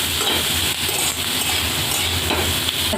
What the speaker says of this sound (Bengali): পেঁয়াজটা দিয়েও আমি একটু পেঁয়াজটাকেও ভেজে নেব আলুর সাথে